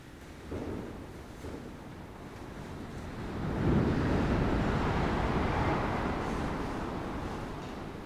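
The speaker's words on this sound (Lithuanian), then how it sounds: "Nežinau, kaip per kamerą girdisi vėjas, bet šiaip geras vėjas." A strong outdoor wind blows near a tent as rain and snow approach, a steady roaring rush that swells louder midway and stays heavy, with no talking.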